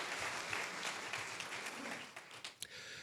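Welcoming applause for bishop candidates at a church general conference's joint policy presentation, a full, even roar of clapping that loosens and breaks into scattered final claps near the end.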